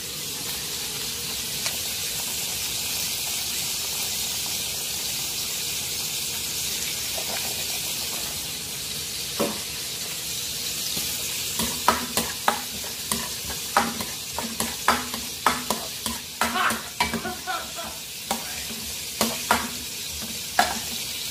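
Garlic sizzling in a frying pan alongside galunggong fish and onion, a steady close sizzle that grows busier with a run of sharp spatula scrapes and taps in the latter half.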